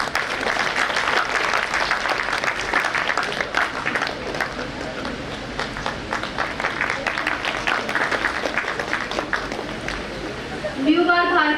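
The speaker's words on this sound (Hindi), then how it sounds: "तो एक बार अपने गुरुजनों के लिए जोरदार तालियां बजाइए।" Loud, sustained applause for the teachers from a school audience at a career event, steady clapping filling the whole stretch with a voice coming in near the end.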